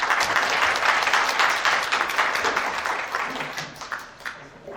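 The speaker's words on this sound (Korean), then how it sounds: "여러분 큰 박수로 모시겠습니다" An audience at a business forum claps as the chairman is welcomed to the stage, a full burst of applause that gradually tapers off over a few seconds.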